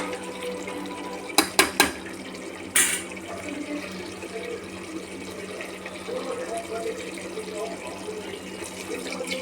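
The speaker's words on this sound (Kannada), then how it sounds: "3/4 kg ಮಟನ್ಗೆ ಒಂದು 3 ಗ್ಲಾಸ್ ನೀರು ಮಿಕ್ಸ್ ಮಾಡ್ತಾಯಿದ್ದೀನಿ" About three glasses of water are mixed into three-quarters of a kilo of mutton in a pot, opening with a few sharp metallic clanks and then settling into a continuous close sloshing and pouring wash.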